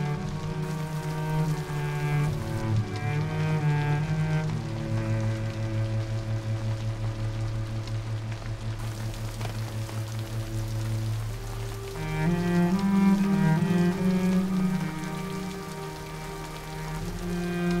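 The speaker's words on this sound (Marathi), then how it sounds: "बघ ना किती पाऊस पडतोय" Heavy rain falls steadily on surfaces during a Marathi film scene, half-hidden beneath sustained melodic background music that swells and shifts throughout, with no speech.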